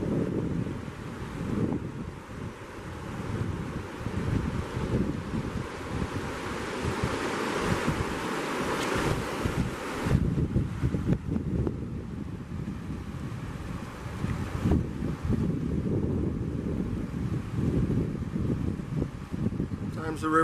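Gusty breeze off the Cispus River at a riverside camp, rushing steadily and buffeting the microphone, with rough bursts and a faint hum throughout.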